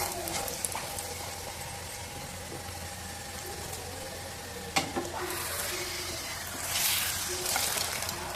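A chapati made with ajwain (vaamu) leaves cooks on a hot pan, giving a steady soft sizzle throughout, with a brief sharp tap midway and a slightly louder hiss near the end.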